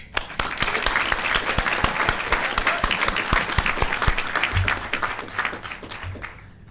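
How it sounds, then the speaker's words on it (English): Graduates and guests at a graduation ceremony applaud in a hall, sharp individual claps rising quickly into sustained applause that gradually thins and fades near the end, with a couple of low thumps. "another round of applause for you guys"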